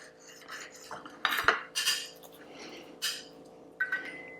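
Metal cutlery clinks and scrapes against a plate while a knife and fork cut through a microwaved chicken tikka wrap, several close, quiet bursts over a few seconds with no talking.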